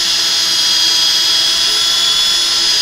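A wood lathe runs at about 500 RPM during lacquer finishing, giving a loud, steady mechanical whir with a constant high-pitched whine and no change in pace throughout.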